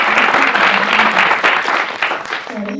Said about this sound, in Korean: 우리 심사위원님께 다시 한번 큰 박수 보내드립니다